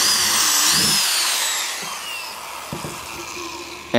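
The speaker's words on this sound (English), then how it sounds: "So I'll just start drilling these holes here," A power drill bores drain holes in a plastic tub for a vermicomposting bin, the whine running loud and near at first and then easing and fading toward the end, with a sharp knock just before it stops.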